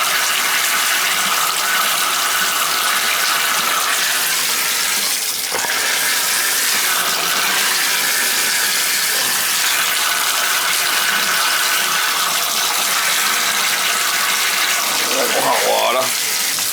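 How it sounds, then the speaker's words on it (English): Steady broadband rush of hot water pouring from an American Standard tub faucet, continuous and fairly loud throughout, with a few faint clanks and a brief murmur near the end. "I'm getting hot water out of it."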